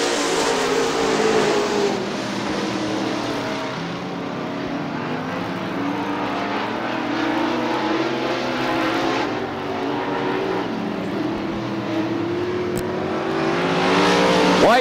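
Super late model race cars roar around an oval at Crystal Motor Speedway in Crystal, Michigan, a loud continuous engine drone with pitch shifting as the pack passes through the turns, no voices.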